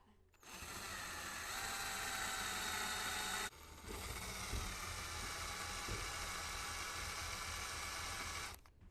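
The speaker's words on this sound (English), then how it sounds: "The eraser wheel." A power drill spins an eraser wheel against the paint of a 2022 Chevrolet Silverado 3500 HD Z71 to strip badge adhesive, a steady high whir that briefly drops in pitch as it bites, then runs on before stopping.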